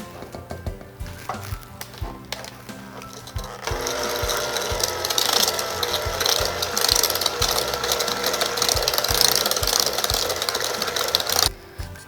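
Electric mixer blending lemon raspberry cupcake batter in a bowl, a steady loud whirring drone that starts after a few seconds of clatter, holds for several seconds and cuts off near the end.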